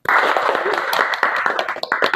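A classroom group of students claps hands together, a short burst of dense, loud applause lasting about two seconds, with scattered voices mixed in.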